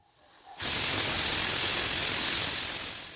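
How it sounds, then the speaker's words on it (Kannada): A pressure cooker of village-style sambar suddenly vents a loud, steady steam whistle after a brief quiet moment, a continuous broadband hiss that holds at full strength for about two and a half seconds before easing slightly. "ಇವಾಗ ಕುಕ್ಕರ್ದು ನಿಡ್ಡ ಹಾಕ್ಕೊಂಡು ಐದು ಐದು ವಿಷಲ್ ಹೊಡಿಸಿದ್ರೆ ಸಾಂಬಾರು ರೆಡಿ ಆಗುತ್ತೆ"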